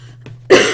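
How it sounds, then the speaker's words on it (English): A single harsh cough bursts out after a short stretch of near quiet with a faint low hum, loud and close, trailing into a rough, breathy tail. "I coughed for you"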